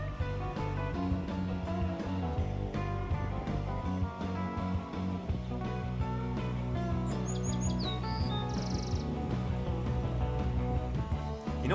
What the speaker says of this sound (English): What a hyperactive little bird.